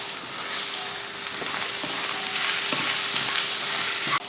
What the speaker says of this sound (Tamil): நல்லா வதக்கி விடணும் அதாவது அந்த ஈரப்பதம் இல்லாமல் நல்லா வறுத்து வரணும்